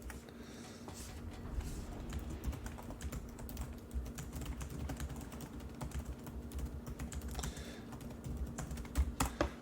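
Fingers tap quickly on a computer keyboard in steady, uneven bursts of clicks, close and fairly quiet, with no talk over the typing.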